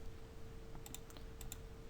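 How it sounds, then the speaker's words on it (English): Keys clatter in a quick, uneven burst of typing on a computer keyboard at a desk, close and fairly quiet over a steady background hum, with no one speaking. "Need to work on my typing."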